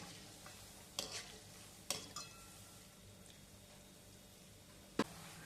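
Gulab jamun frying in oil are gently stirred, a soft continuous sizzle with a few sharp clinks and scrapes of a utensil against the pan, quiet and close.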